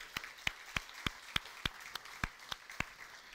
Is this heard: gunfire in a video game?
no